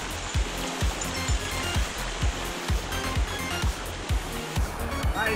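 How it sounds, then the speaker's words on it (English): A rainforest creek flows through a canyon near Dorrigo, a steady close rush of water with a regular pulsing throb running underneath. "Different creek down here."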